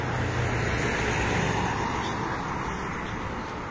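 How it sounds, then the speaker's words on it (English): Steady roar of road traffic along a city boulevard in Romania, a dense broadband wash of passing vehicles heard from nearby without any talk. "So even with all this noise of the traffic"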